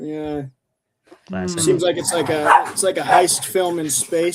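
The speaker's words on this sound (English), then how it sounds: "Sorry for my barking dogs." Dogs barking indoors: a short yelping bark at the start, then a pause, followed by people talking over the background.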